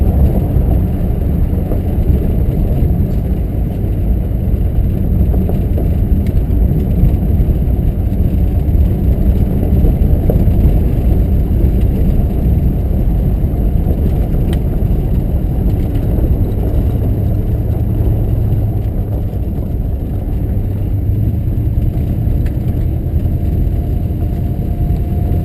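A 1956 Packard rolls along a gravel road through woods, its engine a low continuous rumble mixed with steady crunching tyre noise and cabin drone for the whole stretch, with no talking.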